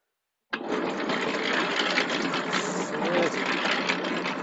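A homemade washing machine built from a concrete mixer churns rugs with a steady whirring, rattling mechanical drone that starts abruptly and runs continuously, loud and close.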